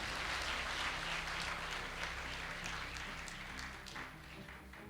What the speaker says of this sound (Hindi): तो एक बार ताली होनी चाहिए ना